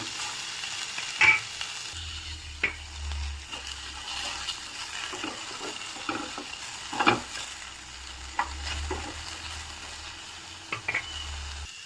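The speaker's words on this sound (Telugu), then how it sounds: "బెండకాయలు వేసుకొని జిగురు పోయేంత వరకు వేపుకుందాము." Sliced okra frying in a pan for a tamarind stew, a soft continuous sizzle broken by repeated scraping strokes of a spoon stirring it, close and moderately loud with no talking.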